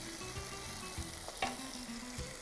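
Sweet potato sautés in oil in a pan, a faint, low sizzle running steadily with a quiet utensil scrape, with a low hum in the background.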